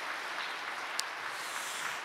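Faint, distant congregation applause during an online New Year's worship service at a church, a soft even wash of clapping with no voices over it.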